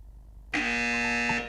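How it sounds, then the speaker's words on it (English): Quiz buzzer at a school quiz semi-final sounds a loud, steady electronic tone lasting about a second after a quiet pause, with no voices over it. "The question opens on the buzzer."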